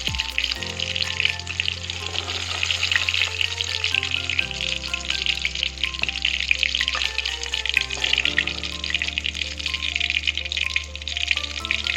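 Pointed gourd sizzles steadily in hot oil, a dense, even frying hiss that runs loud and close for the whole stretch with no voices over it.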